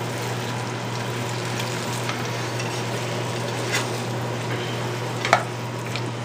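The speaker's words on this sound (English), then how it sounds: "Let's stir those cashews in." Cashews being stirred into frying cashew chicken, a steady close sizzle with a low constant hum beneath and a few soft spoon scrapes, one sharper clink near the end.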